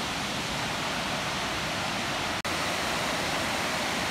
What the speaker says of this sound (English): it's a nice little waterfall